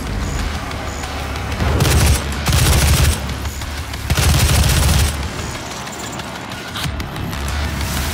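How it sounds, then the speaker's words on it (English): Super shotgun blasts from the video game Doom, three heavy booming bursts of gunfire about a second apart over a steady low game rumble, with faint electronic chirps between shots. "God, this super shotgun is no joke."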